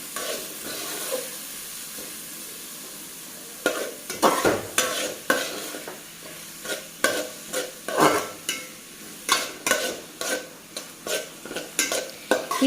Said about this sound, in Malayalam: ഈ സവാള നന്നായിട്ടൊന്ന് വഴണ്ട് വരണം.